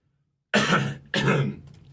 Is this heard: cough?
yes